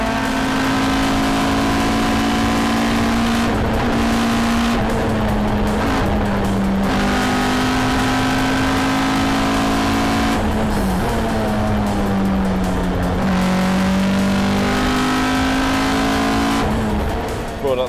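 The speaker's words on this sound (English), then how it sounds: "This car, which is quite a bit more power than the BDA, but suited to these tarmac roads" A rally car, more powerful than a BDA, revs hard on tarmac roads, its loud engine note rising and falling through repeated gear changes, close and continuous across the whole stretch.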